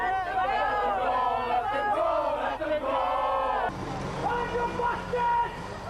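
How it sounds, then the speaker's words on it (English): An angry, menacing crowd massed outside a court roars and shouts together, a loud dense wall of voices with a brief dip partway through before the clamour resumes. "A menacing crowd gathered outside the court,"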